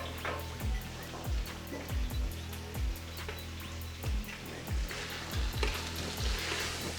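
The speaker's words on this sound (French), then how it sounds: "Et là, je vais verser mes écrevisses." Crayfish for an okra sauce drop into a hot pot, giving a steady sizzle with repeated low thumps and clatters as they land and are stirred, fairly close and with no talk.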